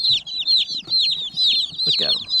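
Baby meat chicks from McMurray Hatchery, gathered in a brooder under heat lamps, cheep in a dense, continuous chorus of high peeping, with a louder burst near the end and faint talk underneath.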